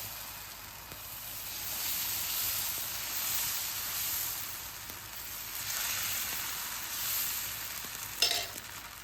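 Adai batter meeting a hot dosa tawa, giving a steady soft sizzle and hiss that runs throughout, with a brief sharper crackle near the end; no talking.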